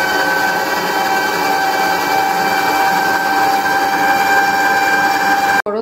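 An electric mixer beats cream with sugar toward stiff peaks, a loud, steady close whine with a constant motor hum that holds for several seconds and then cuts off abruptly near the end.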